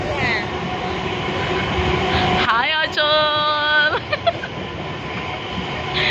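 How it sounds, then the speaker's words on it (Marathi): A train pulls into a suburban railway station near Bhayandar and Virar, its horn sounding in a loud sustained blast over steady rumbling and crowd noise, with a brief spoken greeting nearby. "ट्रेन आ रही है."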